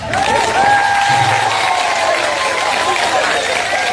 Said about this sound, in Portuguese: Então, mamás, batam palmas.